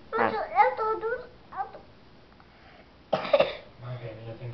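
A child coughs in a sharp, close burst partway through, coming after a stretch of babbling child speech and a brief quiet pause.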